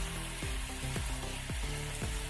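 Singara filling frying and being stirred in a pan, a steady close sizzle with four regular scraping strokes of the spoon, no talk.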